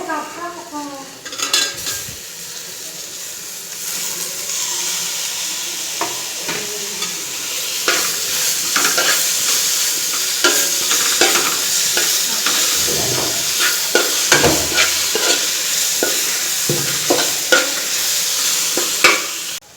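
Onions, green chilli and tomato sauté in a pan for pepper chicken curry, with a loud continuous sizzle and frequent metallic scrapes and clanks as a spoon stirs close by.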